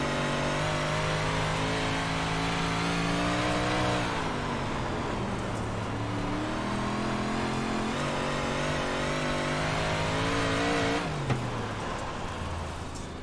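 A race car runs a lap at Weedsport speedway, its engine droning loudly and continuously throughout, with the pitch rising and falling as it accelerates and lifts through the turns.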